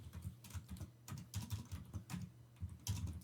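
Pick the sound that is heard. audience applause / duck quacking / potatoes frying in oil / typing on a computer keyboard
typing on a computer keyboard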